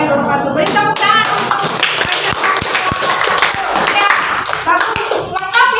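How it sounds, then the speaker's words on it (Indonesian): Students in a classroom clap together in a sharp, rhythmic round, with separate claps punctuating the noise and voices speaking around it. "Beri tepuk tangan."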